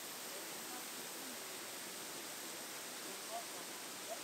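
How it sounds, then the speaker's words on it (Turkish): A waterfall at a village campsite pours in a constant broadband rush, steady and fairly loud, with no break or change through the short stretch. "Şelale, bu gördüğünüz gibi akıyor burası."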